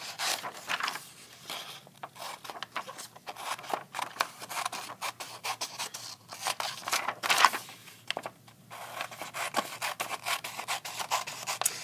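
Scissors snipping around a printed paper sheet of spelling words, a steady run of close, soft cutting and rustling strokes that continues throughout without talk.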